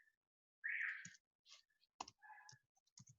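Close keyboard typing during a mechanical design lesson, several short, quiet clicks and taps spaced irregularly, with no talk over them.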